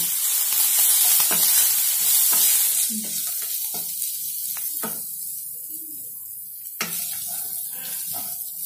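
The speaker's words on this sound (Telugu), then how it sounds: "అల్లం వెల్లిగడ్డ పేస్ట్ కలుపుకుంటూ ఫ్రై చేయండి, లేకపోతే అది మాడిపోతుంది" Ginger garlic paste fries in hot oil for a potato dish, giving a steady, close sizzle broken by repeated scraping stirs of the spoon through the pan.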